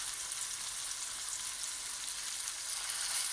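Chicken cutlets for piccata searing in a pan, a soft, even hiss of frying fat, fairly quiet and steady with no voices.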